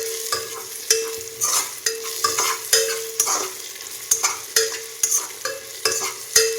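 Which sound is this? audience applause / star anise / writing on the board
star anise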